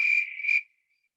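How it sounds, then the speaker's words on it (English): A short cricket chirp trill, two quick pulses blending into a steady high buzz, then fading out into silence. "Yes, that was crickets."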